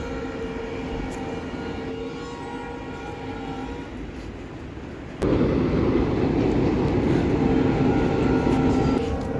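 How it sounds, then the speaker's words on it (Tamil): A train rumbles past steadily with low rolling noise, growing louder midway as it draws nearer, with no voices, on the route toward Rameshwaram in Tamil Nadu, India. "நமக்கு முன்னாடி ஒரு அழகான ட்ரெயின் போயிட்டுருக்கு."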